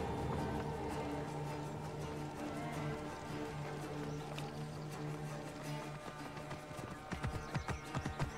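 A horse in the video game Assassin's Creed Origins trots along with rhythmic clip-clop hoofbeats under a steady game ambience and music, faint at first and then sharper and closer near the end.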